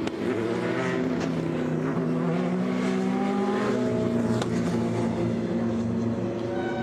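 Race car engines from 24 Hours of Le Mans 2020 free practice drone steadily and loudly at close range, with layered revving tones shifting as cars pass, and no talk.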